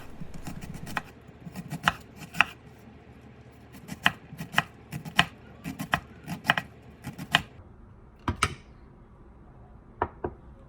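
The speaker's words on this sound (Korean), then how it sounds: "양파 반 개를 잘게 다져주세요" A knife finely dices half an onion on a cutting board while a tuna gochujang side dish is being made. Close, crisp knocks come in quick rhythmic bursts with short pauses, and no one speaks.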